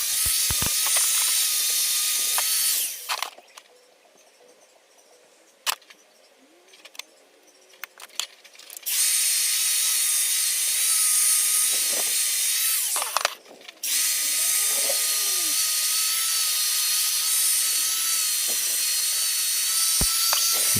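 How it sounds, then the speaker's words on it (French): An angle grinder disc polishes metal welds on a homemade manual log splitter, a loud, close, bright grinding hiss that breaks off into quiet with light clinks, then resumes steadily for long stretches, with no talking. "Donc toujours avec le même disque, je polis les soudures pour que ça fasse plus propre."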